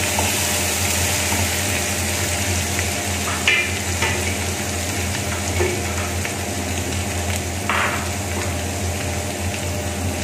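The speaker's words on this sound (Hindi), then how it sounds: "हल्का सा फ्राई कर लेंगे इसको" Ginger garlic paste sizzles in a pan with browned onions for chicken pulao, a steady close frying hiss with a few soft stirring scrapes and no voices.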